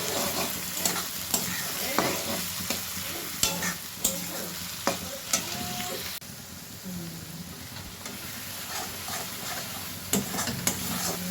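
A paste of ginger, garlic, chilli, onion and tomato frying and being stirred in a pan, with steady sizzling broken by repeated scraping and clanking strokes of a spoon against the pan.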